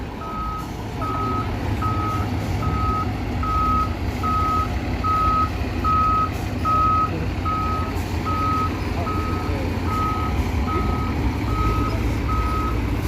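A large bus reversing on a narrow city street in Toronto sounds its backup alarm, a regular series of evenly spaced beeps over low engine rumble and street noise, continuing steadily with no speech.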